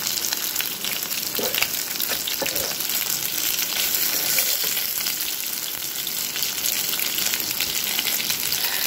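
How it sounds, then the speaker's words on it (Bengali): Round eggplant slices fry in a pan in a home kitchen, making a dense, continuous sizzle that holds at an even level throughout with no talking. "আর আজকে বেগুন ভাজি করছি। এই যে বেগুন, একটা বেগুন এদিকে গোল গোল করে ভাজি করছি"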